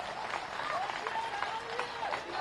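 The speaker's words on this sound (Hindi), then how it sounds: "ऐसे नहीं, जरा जोरदार तालियों के साथ उनको आशीर्वाद दीजिए।" Crowd at a BJP political rally in Madhya Pradesh claps in a steady, moderately loud patter, with scattered voices and an announcer's tone mixed through the applause.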